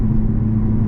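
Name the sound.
exhaust burbles from tuned drag race car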